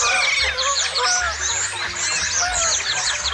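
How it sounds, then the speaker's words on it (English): A flock of geese honks all at once in a dense, overlapping chorus, loud and close, with no voices over it. "that's all you hear from the birds."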